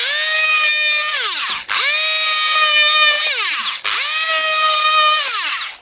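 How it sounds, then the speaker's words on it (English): A multi-tool cuts a hole in plasterboard with a loud, close, high buzzing whine in three long passes, dropping in pitch as the blade bites and pausing briefly between cuts. "we have the luxury of using a multi-tool to cut a hole in the plasterboard"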